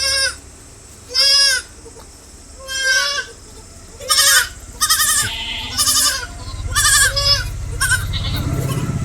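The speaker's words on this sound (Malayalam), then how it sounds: "ആടുകൾ വിൽപ്പനക്കുള്ളതാണ്." A small herd of four mother goats and eight kids, pastured on open ground, bleat one after another in loud, wavering cries, some high and thin from the kids, with a low rumbling background rising toward the end.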